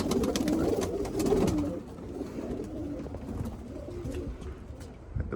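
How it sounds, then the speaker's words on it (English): Roller pigeons just released from their loft flutter and coo nearby, a soft, busy mix of bird sounds that is fuller in the first couple of seconds and then thins out. "Got the birdies out. They're flying. These are the rollers."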